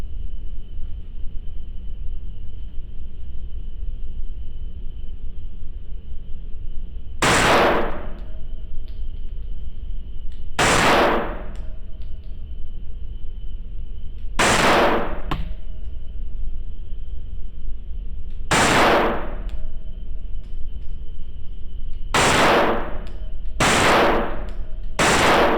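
Shots fired from a Gen 5 Glock 19 MOS fitted with a Mayhem Syndicate compensator: loud, sharp single reports, spaced a few seconds apart at first and closer together near the end, over a steady outdoor hum.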